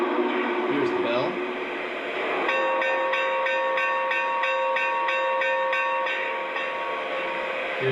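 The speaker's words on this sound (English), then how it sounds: "Here's the bell." The bell on a Lionel Union Pacific Challenger 3985 model locomotive rings with a steady, even clang, repeating a dozen or so times over a background of running-train rumble and noise.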